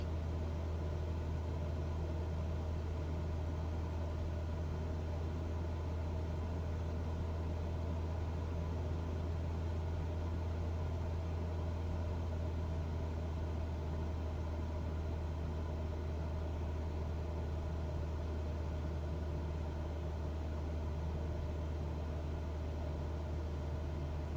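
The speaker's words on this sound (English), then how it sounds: "Aircraft engines." Steady, droning engine and propeller roar inside a Cessna 172 in flight, a constant low rumble with a hum on top, unbroken and loud for the whole stretch, with no voices.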